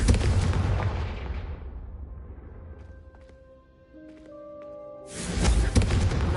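A Confringo fire spell in Hogwarts Legacy bursts against candelabras, a loud blasting roar at the opening that fades into quieter tones, then another heavy burst erupts near the end.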